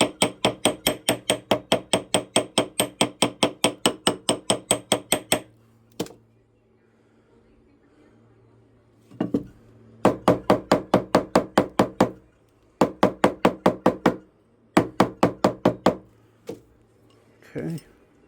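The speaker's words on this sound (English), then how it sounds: "we're going to do some tapping with the ball peen hammer here" Ball peen hammer tapping on metal in rapid, evenly spaced strikes, several bursts of a dozen or more blows separated by short pauses, close and loud, with a low steady hum underneath.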